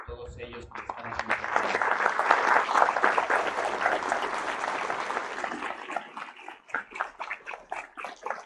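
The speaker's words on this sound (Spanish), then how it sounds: "un fuerte aplauso también para todos ellos que están aquí" An audience applauds at a university degree-awarding ceremony, the clapping building quickly into a loud, sustained wash, then thinning to scattered claps near the end.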